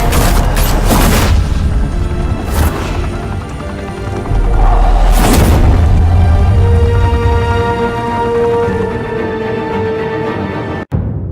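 Gunfire and booms in the Batman Telltale video game, with loud blasts near the start, around 2.5 s and at 5 s over a sustained rumbling battle bed, ending with a sharp click.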